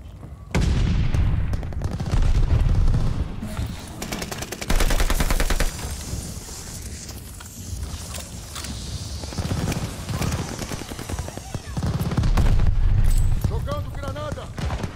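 Gunfire in the video game Call of Duty: Vanguard, Bloodshed mode: loud bursts of rapid automatic shots and heavy blasts come in waves, with a quieter stretch between them.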